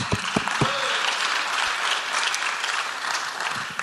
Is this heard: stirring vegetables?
no